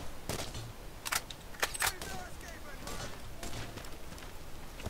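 Distant gunfire in the Borderlands video game: scattered single shots and short bursts, faint and far off, popping now and then over a low ambient backdrop.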